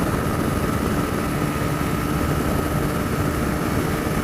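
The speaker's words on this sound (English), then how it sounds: "Shame my exhaust sounds like shit and is quiet as hell." A car's quiet exhaust drones steadily while driving on the M4 toward Cardiff, a constant low engine and road rumble with no talking.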